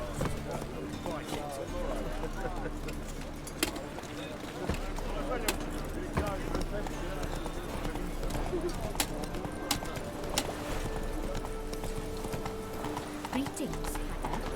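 A horse's hooves clip-clop at a steady walking rhythm in The Witcher 3 video game, the sharp hoofbeats clear over a low ambient game bed, with a brief bird chirp and speech nearby.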